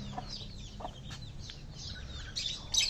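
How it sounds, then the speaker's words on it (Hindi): A hen clucks softly among her chicks on a farm, with faint short peeps and clucks scattered over a quiet background. "और ये रही हमारी मोटी और उसके चिक्स"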